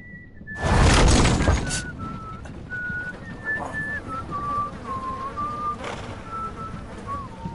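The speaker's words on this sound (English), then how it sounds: "Who the hell's whistling?" In the Telltale Game of Thrones video game, a wandering tune is whistled over a faint background, opening with a sharp crash, then the melody continues at moderate loudness with no speech.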